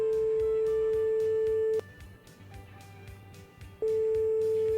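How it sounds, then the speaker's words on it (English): A common phone ringtone in the game My Winter Car sounds as a steady electronic tone, cut off for a two-second pause and then resuming, over a low rumbling background hum. "everyone's ringtone now is"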